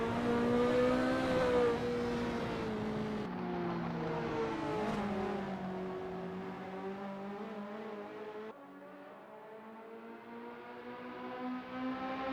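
Ferrari F40 race cars at Sonoma in a sim racing game accelerate hard, engines revving loudly with rising and falling harmonic whine through gear changes, one car close and continuous for the whole stretch.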